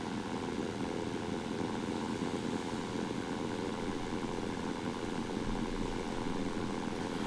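Aircraft engine roars steadily and close in the flight game Blue Sky Aces, a continuous droning drone with propeller character holding at full throttle with no talk over it.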